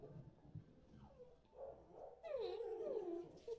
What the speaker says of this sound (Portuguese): seu cachorro lá fora tá latindo